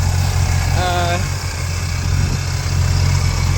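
1967 Pontiac LeMans convertible with a 326 V8 and a multi-carburetor setup, running with a steady, loud, rumbling idle and a slight throttle blip, while someone speaks over it.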